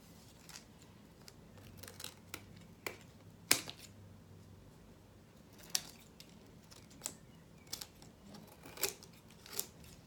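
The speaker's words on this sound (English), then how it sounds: "Just cut a minimal," Scissors snip a small corner off paper for a tabletop lantern, a series of sharp, quiet clicks and snips spaced irregularly, close up with no talk.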